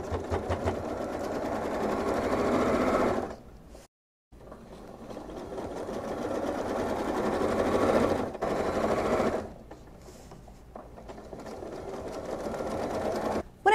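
A sewing machine quilts a dot-to-dot design of straight and curvy lines guided by a slim ruler, running as a steady, dense whir with two brief pauses.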